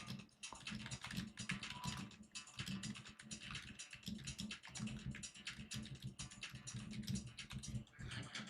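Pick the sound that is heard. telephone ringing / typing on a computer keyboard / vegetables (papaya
typing on a computer keyboard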